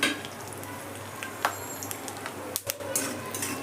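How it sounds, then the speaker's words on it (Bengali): Chopped dry fruits being stirred in ghee in a pan, a low continuous sizzle with scattered light clinks and scrapes of the spoon against the metal. "ড্রাই ফ্রুটসগুলো ঘিয়ের মধ্যে নেড়ে নেবো"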